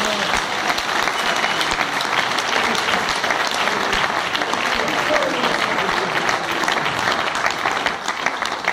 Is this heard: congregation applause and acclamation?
yes